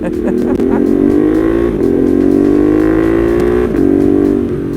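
A Ducati Monster 1200 motorcycle engine drones loudly and close while riding, with quick auto-blip downshifts showing as brief rev flicks and gear changes breaking the steady engine note.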